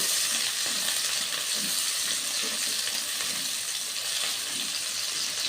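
Sliced onions and green chilies fry in a pan for a vegetable khichuri, a steady bright sizzle with soft stirring scrapes, continuous and close.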